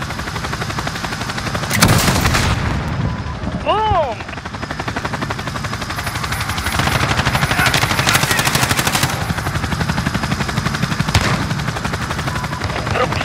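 Rapid bursts of gunfire crackle over a constant rumble in Call of Duty, with heavy blasts and a sweeping whine mixed in as battle noise continues throughout.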